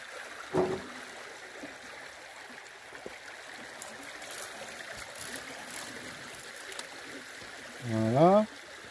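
Well water being drawn and running in a steady, continuous rush and trickle, with a brief tonal squeak early on and a short louder creaking burst near the end.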